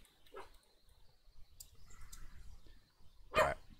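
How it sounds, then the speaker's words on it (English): A dog barks twice indoors, a short muffled bark early on and a louder, sharper one near the end, with faint background noise between. "I'm just going to sort that dog out in a sec."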